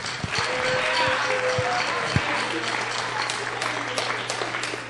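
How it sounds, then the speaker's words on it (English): Applause from an audience at a school spring instrumental concert, sustained and steady for about five seconds with scattered nearer claps and some murmuring voices mixed in. "So let's give David a round of applause."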